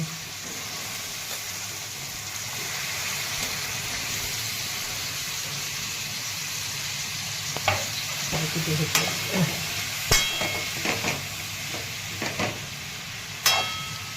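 Mixed vegetables for Maharashtrian khengat, including carrot, sugarcane pieces, broad bean pods and peas, sizzle steadily in a pan as a spoon stirs them, with a few scraping knocks in the later part.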